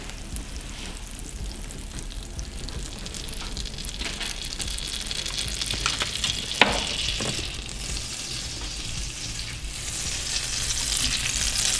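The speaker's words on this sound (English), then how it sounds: "So the pan is already hot. Can you see it's melting? First melt the butter." Butter melting and sizzling in an already hot pan for creamed spinach, a steady close crackle with a few sharper pops and a scrape of stirring.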